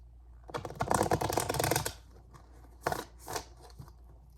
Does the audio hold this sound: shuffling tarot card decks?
yes